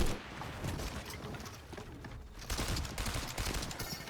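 Gunfire in a Fortnite match, rapid bursts of shots in a dense, continuous volley that swells louder toward the end, heard in close game audio without talk.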